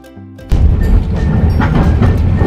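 A Nagasaki tram pulls up at a stop, its rumbling, rattling run rising suddenly from quiet to a loud, steady roar with clacking wheels close by.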